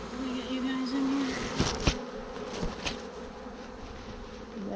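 A swarm of honeybees buzzes around a hive in a steady, dense drone, with a few louder bees passing close by.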